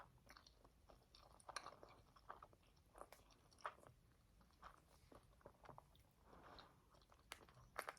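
Salmon sushi from a roll is chewed close to the mic, soft wet bites and mashing in an irregular rhythm, quiet and intimate with no talking.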